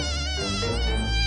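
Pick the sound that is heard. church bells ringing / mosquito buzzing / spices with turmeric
mosquito buzzing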